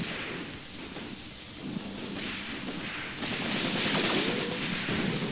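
Heavy rainstorm with thunder in the war game Graviteam Tactics: Mius Front, a dense continuous hiss of pouring rain with low rumbling thunder swelling louder toward the end, no voices.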